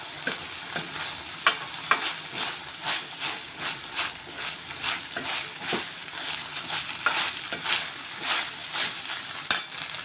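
Ginger garlic paste and turmeric being stirred and fried in a pan for a tomato and broad bean curry: a soft steady sizzle punctuated by repeated scraping strokes of a spoon at an uneven rhythm, close and moderately loud.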